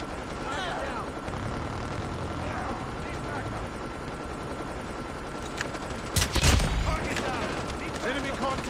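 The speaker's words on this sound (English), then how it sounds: "Hostile stealth chopper inbound." Call of Duty Mobile gameplay, with a stealth helicopter's steady rotor roar and bursts of gunfire running under a game announcer voice, and a louder burst of shots partway through.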